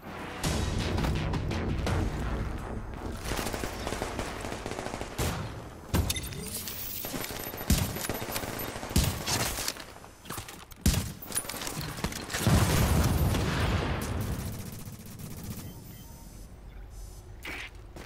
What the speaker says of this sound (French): Les gars, vous avez le sniper de l'extraction qui vous tire dessus.